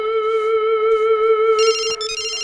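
A phone rings with a steady electronic tone, joined by a brighter melodic chime near the end, clear and close with no talking.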